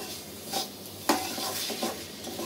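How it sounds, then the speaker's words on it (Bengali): Soaked, softened dried loitta fish (Bombay duck) being sautéed in a pan, a low steady sizzle broken by scraping stirs and one sharp clink of a utensil against the pan. "এইরকম আমি এখন কিছুক্ষণ কষাবো"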